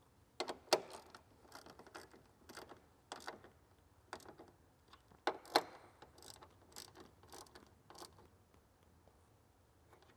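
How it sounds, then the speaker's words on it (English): Ratchet wrench tightening 10mm bolts on a radiator plate mount of an S650 Mustang, heard as a series of quick, quiet clicking ratchet strokes in irregular bursts, close by with no talking. "go ahead and tighten up your 10mm bolts"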